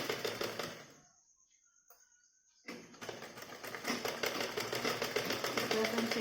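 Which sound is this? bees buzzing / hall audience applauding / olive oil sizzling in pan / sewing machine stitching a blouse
sewing machine stitching a blouse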